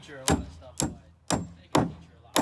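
A hammer knocks a wooden jack stud flush while framing a header in a rough opening, with four sharp, evenly spaced blows ringing close and clear.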